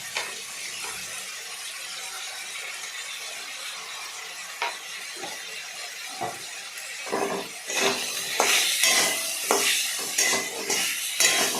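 A spoon stirs drumstick flower and fish roe curry in a pan over a soft frying hiss, with the scraping strokes growing louder and more frequent toward the end.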